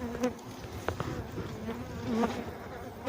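Honey bees buzz steadily at a beehive, a close, continuous hum with individual bees droning past.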